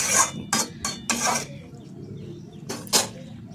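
Metal lid clattering onto a cooking pot of winter spinach curry, a few sharp clinks and scrapes in quick succession, then a pause and a final clank.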